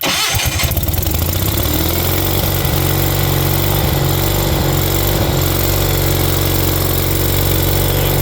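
A Miller AEAD200LE welder generator engine cranks over and catches within the first second, then settles into a loud, steady idle with a strong low rumble that runs unbroken to the end.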